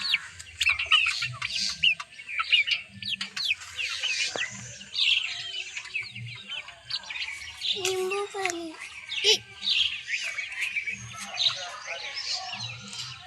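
Chickens in a newly built coop cluck and chirp in short, scattered bursts, fairly near, with brief stretches of voices talking between the calls.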